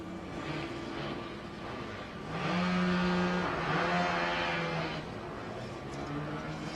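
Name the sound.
Formula SAE electric race car driving on skidpad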